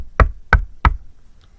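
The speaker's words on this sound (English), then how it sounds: "I heard another loud knock on my door." Three loud, evenly spaced knocks on a door, sharp and close, followed by quiet.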